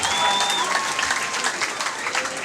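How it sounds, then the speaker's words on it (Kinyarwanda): A church congregation breaks into sustained applause during a Saturday radio broadcast, a dense, even patter of many hands that holds steady throughout, with a faint voice and thin whistle-like tones above it. "Komera amashyi mwambitsi"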